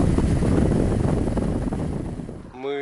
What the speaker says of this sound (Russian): И идем строго против ветра.